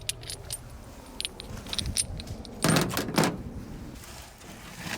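Metal rocker arms from a Pinto race car engine being handled and gathered together, a close jangling clatter of loose metal parts with a louder burst of clinking midway, no voices.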